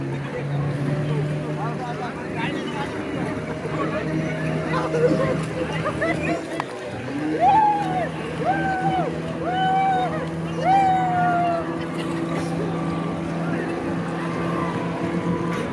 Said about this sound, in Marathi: काकांनी बोट चालू केली आणि काका बोट घेऊन पळाले होते.